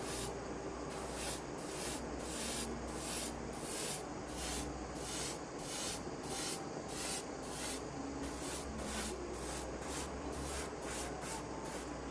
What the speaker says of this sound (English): that's pretty much the airbrushing done